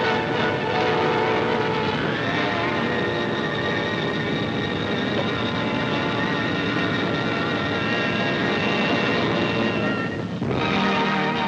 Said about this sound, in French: Des avions de combat soviétiques apparaissent dans le ciel.